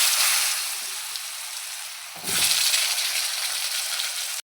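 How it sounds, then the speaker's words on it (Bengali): Potatoes frying in a pan with a loud, bright sizzle, interrupted briefly midway by a stir or turning scrape before the crackling hiss resumes steadily, no talk. "প্রথমে আলুটা ভেজে নিচ্ছি।"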